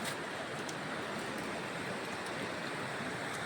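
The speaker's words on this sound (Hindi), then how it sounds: "चट्टान है, पानी बह रहा है पूरा।" A forest river in Bastar, Chhattisgarh rushes over rocks in a continuous, even hiss of flowing water, heard steadily throughout at moderate loudness with no voices.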